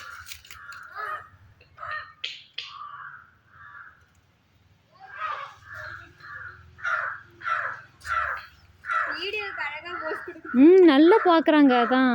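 Crows caw repeatedly overhead in a rural outdoor setting, harsh calls coming in irregular bursts, some close and loud, while people talk nearby.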